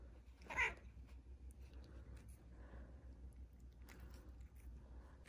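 A cat resting in the sun gives a single short meow early on, fairly close but modest in level, over a steady low hum and faint room noise.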